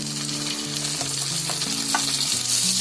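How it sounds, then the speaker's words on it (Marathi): Capsicum and tomato hit fried onion on a tawa for pulao, producing a loud, continuous sizzle with faint stirring clicks and a low steady tonal hum running underneath. "आता त्याच्यामध्ये शिमला मिरची आणि टोमॅटो टाकते."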